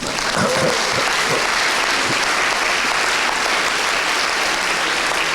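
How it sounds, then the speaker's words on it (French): Audience applause for a film at a graduation ceremony, a dense continuous wash of many hands clapping in a hall, steady and moderately loud across the whole stretch. "On applaudit ce film."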